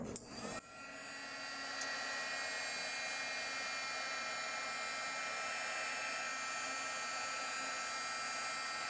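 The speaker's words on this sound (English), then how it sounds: "they say the best way to do this is when you're embossing to always put the heat to the back side of the card" A heat embossing tool blows hot air onto a handmade Christmas card, a steady whooshing fan hiss that starts with a brief click and then holds constant and fairly quiet throughout.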